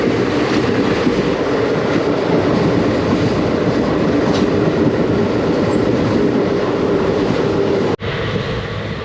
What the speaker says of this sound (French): je suis dans le train là